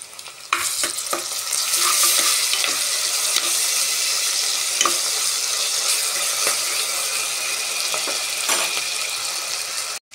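Ginger garlic paste sizzles and fries in a pan while a spoon scrapes and stirs through it in repeated clicks, a steady close hiss with no talking, cooked as the start of a goat leg sharva.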